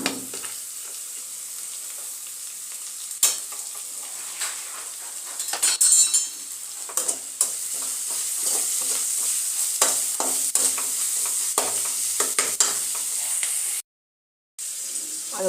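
Onions sautéing with salt in a pan for a Tamil-style prawn curry, with a steady close sizzle and frying hiss throughout, broken by repeated clinks and scrapes of a spoon stirring against the vessel and a brief dropout near the end.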